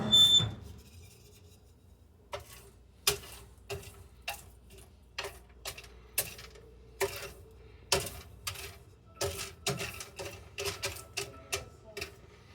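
Home-roasted coffee beans crack and pop in sharp, irregular snaps, sparse at first and then quickening, fairly quiet over a low roaster hum.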